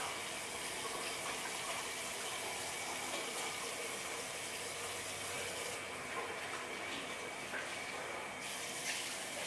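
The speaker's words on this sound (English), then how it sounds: "Wash my face real quick." A bathroom tap runs continuously while someone washes their face, giving an even, moderately loud rush of water with slight changes in splash and no talking.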